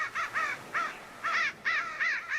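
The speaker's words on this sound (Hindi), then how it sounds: "वे भी जोर जोर से काव काव काव काव करने लगे।" Crows caw loudly and repeatedly in short harsh bursts, several calls in quick succession with brief pauses, close by and clear with no other sounds.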